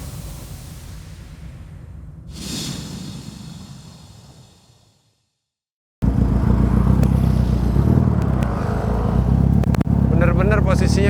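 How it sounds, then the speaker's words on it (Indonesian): Yamaha Vixion motorcycle converted to a four-cylinder cafe racer, heard on a test ride: engine and wind noise build and fade, break off briefly, then return as a loud, steady roar close up. "Oke, Vixion 4 silinder kita tes jalan yuk."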